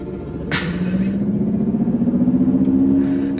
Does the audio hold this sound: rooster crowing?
no